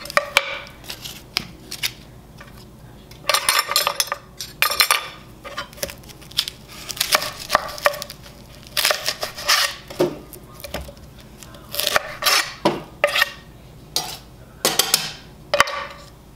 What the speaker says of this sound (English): just want to chop up an onion